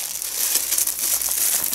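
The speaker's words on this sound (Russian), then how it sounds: "Пакет под мусор, который можно переработать." A recyclable plastic garbage bag crinkles steadily up close, a continuous bright rustle with no talking.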